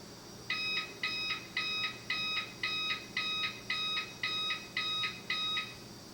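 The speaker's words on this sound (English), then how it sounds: "You will see it on the display and get an audible beep." Alert beeps from a Heathkit ID-5001 weather computer: ten short, evenly spaced electronic double-tone chirps repeating about every half second over a steady low background hum, with no talk.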